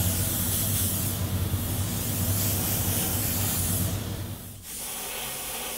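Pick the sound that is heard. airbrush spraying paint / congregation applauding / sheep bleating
airbrush spraying paint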